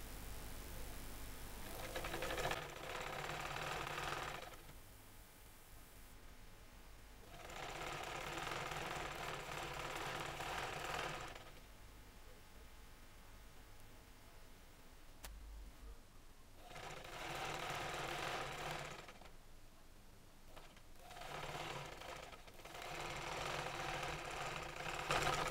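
Sewing machine stitching a salwar cuff hem in bursts of steady whirring, several runs separated by short pauses, close and fairly loud with no talking.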